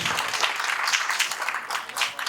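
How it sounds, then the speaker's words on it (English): Brief burst of audience applause at a conference session on the Internet of Things, a steady patter of many hands clapping at moderate distance with no speech over it. "A round of applause, yeah?"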